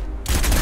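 Gunfire in the PC shooter Crysis 2: after a quiet moment, a loud, close burst of rapid shots erupts and carries on to the end of the short snippet, with no talking.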